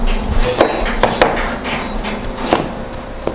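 A few sharp knife chops strike a cutting board at an uneven pace, close and crisp over faint room noise.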